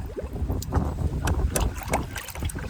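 Water sloshes and splashes close by in a bucket of clean water as a salt water chlorinator cell is rinsed, swirling back and forth in uneven, gurgling surges.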